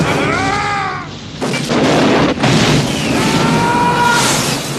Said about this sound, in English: That's one of the explosions that Michael Bay funded.